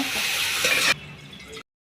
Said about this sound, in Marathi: तर अशी फोडणी देते मी ह्या पाण्याला वरणाचं.